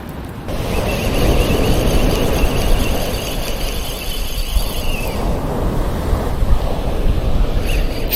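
Sea waves wash steadily against a breakwater on the coast at Uljin, a loud continuous surf roar mixed with wind buffeting the microphone, with no voices over it.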